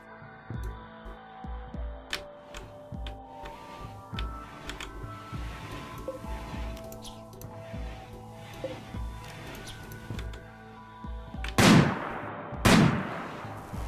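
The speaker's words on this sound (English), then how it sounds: "use a sniper rifle on a sleeping emu" Sniper rifle shots in the RimWorld video game, fired at a sleeping emu: two loud, booming reports near the end, spaced about a second apart, following a stretch of low game hum and soft clicks.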